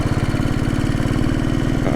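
A Royal Enfield Bullet 500 single-cylinder motorcycle engine runs in gear with a steady, loud, low thumping beat, close and continuous throughout.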